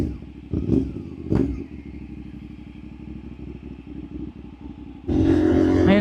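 A motorcycle being push-started during a charity ride: a steady clattering engine with a couple of sharp blips early on, then a sudden louder, sustained roar as it fires up near the end.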